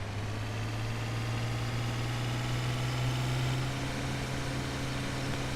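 A tractor engine in the Farming Simulator 17 video game idles steadily with a constant low drone and humming vibration that holds unchanged for several seconds, with no talking.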